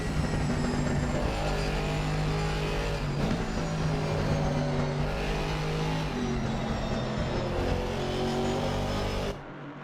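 Mercedes GT4 race cars drone steadily around Silverstone in a sim racing game, a continuous loud engine tone with shifting pitch and no talk, ending abruptly.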